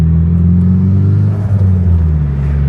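A Nissan S15 pulls up with a loud, close engine drone and low rumble from inside the car, the pitch shifting slightly as it slows.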